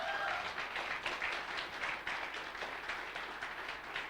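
An awards-ceremony audience at the NWM Awards 2022 applauds Yamini and Rahul, a dense, sustained wash of clapping from many hands that holds steady throughout.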